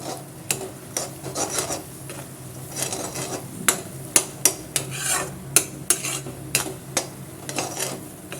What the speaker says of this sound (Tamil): எண்ணெய் சேர்த்து உனக்குள்ள நல்லா கலந்து விட்டுக்கலாம்.